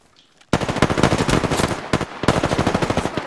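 Rapid automatic gunfire from an Apex Legends match erupts loudly after a brief quiet, two sustained bursts of fast, evenly spaced shots with a short gap between them.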